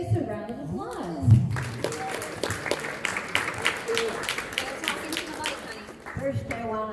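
Audience applause for a woman about to tell her life story at a community gathering in a dining room, a steady wash of clapping with crowd noise that swells briefly and then fades as a voice returns.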